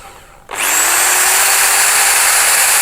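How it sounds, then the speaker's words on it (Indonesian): An electric drill powered from an EcoFlow River portable power station spins up abruptly and keeps a steady, loud, high whine close by with no speech. "Sekarang kita coba untuk ngebor."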